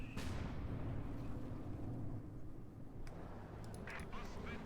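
Artillery-style mortar and rocket fire from the strategy game Company of Heroes 2 booms as a heavy explosion at the start, followed by rumbling battle noise and a few sharper distant reports.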